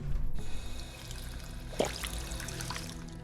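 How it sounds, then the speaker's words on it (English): Water running and splashing from a drinking fountain as a character drinks in Fallout 4, a short steady trickle with a brief louder splash partway through. "Purified water from the water fountains"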